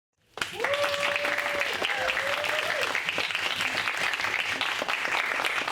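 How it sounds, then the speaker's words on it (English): A crowd at a university senior presentation event breaks into sustained applause that starts abruptly and stays dense and even. A brief tonal voice-like sound rises over the start. "So I want you to join me in again applauding Alana and Billy."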